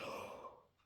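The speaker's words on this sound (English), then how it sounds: "First yawn of the day." A single close, breathy yawn from a woman, opening with a strong airy inhale and trailing off into a fading exhale, heard alone without talk.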